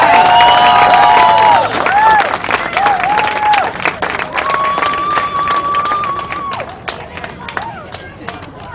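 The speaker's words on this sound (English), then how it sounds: "So can I get a round of applause for everybody who put this together?" A rally crowd at a fair funding event breaks into clapping and cheering, with whoops and high shouts over steady applause near the start that gradually thin out and fade.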